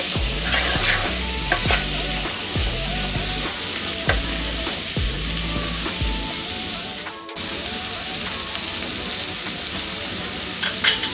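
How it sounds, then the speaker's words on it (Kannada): Tomato and masala fry in hot oil for a vegetable kurma, with a steady sizzle under repeated rhythmic scrapes of a spoon stirring the pan, close and fairly loud. "ಮಸಾಲೆ ಹಾಕಿರೋದು ಮತ್ತು ಈ ಟೊಮೆಟೊ ಎಲ್ಲನೂ ಫ್ರೈ ಆಗಬೇಕು ಎಣ್ಣೆನಲ್ಲೇ."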